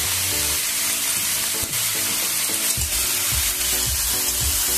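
Raw pumpkin pieces fry in a pan with salt and turmeric, a steady close-up sizzle broken by repeated scraping stirs of the spatula, with a faint tonal hum running underneath and nobody speaking.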